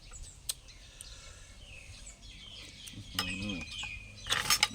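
A chicken clucks a few times at close range among other faint bird calls, with a loud burst near the end over low background noise and some voice.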